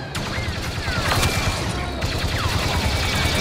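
Dense blaster fire in Star Wars Battlefront II, many rapid shots crackling continuously in a chaotic battle with whooshing bolts, faint voices in the mix.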